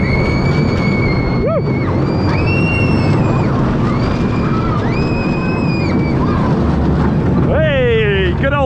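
Pinfari roller coaster on a rooftop at an amusement park grinding up its noisy lift hill, a loud continuous mechanical rumble with wind buffeting and rising and falling whines throughout.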